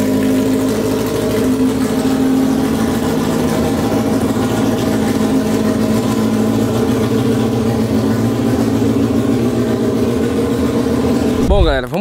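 A Yamaha XJ motorcycle engine idles steadily at a loud, even level on a non-original battery, then revs briefly near the end.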